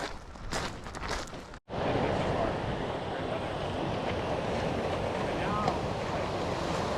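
Ocean surf rolling onto Walt Brand Beach on the West Coast Trail, a broad continuous wash of waves with wind buffeting the microphone, steady and full after a brief break near the start.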